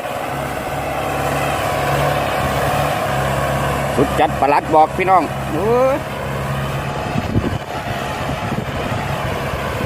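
A tractor with a four-cylinder turbocharged, intercooled engine runs steadily while plowing with a 22-disc plow, a constant mid-level drone beneath someone speaking loudly and briefly in the middle of the clip.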